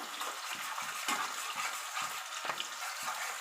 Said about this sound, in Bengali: সামান্য একটু নাড়াচাড়া করে পেঁয়াজের একটু জলা ভাবটা কেটে নিতে হবে